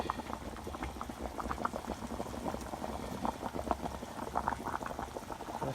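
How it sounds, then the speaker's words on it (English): Rice boiling in a pot for shrimp étouffée, a continuous close bubbling and popping of water at a steady rolling boil, alone without talk. "the rice is starting to boil"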